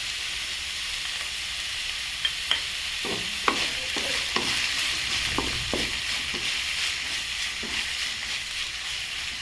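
Vegetables and coriander leaves fry and sizzle in a pan for bun dosa, a steady low hiss broken by a few scattered stirring clicks and scrapes, close and fairly quiet, with no voices.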